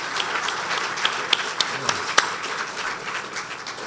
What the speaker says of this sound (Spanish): Aplauso para el Señor.